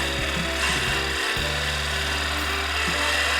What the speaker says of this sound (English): Just coming back with that spindle gouge, and I'll do another light pass through.